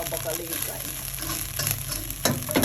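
Pork and broccoli stir-fried in a pan while making Thai five-colour bean fried rice with Job's tears, a steady sizzle and clatter running throughout with a sharper burst near the end.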